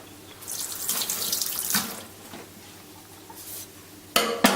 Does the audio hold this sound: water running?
yes